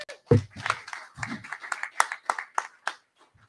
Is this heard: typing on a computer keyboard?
no